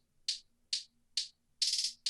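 Pitched-up trap hi-hats play alone: four short crisp ticks spaced evenly, then one longer rapid roll and another tick, bright and close.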